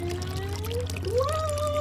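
Water is poured slowly into a bottle for a homemade lava lamp, a rising gurgling, glugging tone that climbs in pitch as the bottle fills, close and continuous with no talking.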